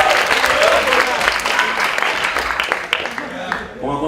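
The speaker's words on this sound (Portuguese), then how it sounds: "Palmas para Alain, por favor." Audience applause fills a hall at a talk, a dense, steady wash of clapping from many hands that carries on loudly for about four seconds before tapering slightly at the end.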